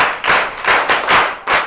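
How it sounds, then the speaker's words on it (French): Schoolchildren in a classroom clap loudly for a classmate, several bursts of energetic group clapping in quick succession, close and vigorous. "Applaudissez très fort pour elle."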